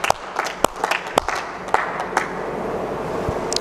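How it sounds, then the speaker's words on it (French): A church congregation claps in praise of God, loud irregular clapping with sharp individual hand strikes over a busier crowd wash, thinning out toward the end. "Est-ce qu'on peut encore acclamer le Dieu Tout-Puissant?"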